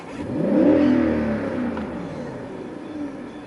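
BMW 740iL E38 engine revving once, the tone climbing and swelling then settling back toward a steady idle hum, heard close with no talking.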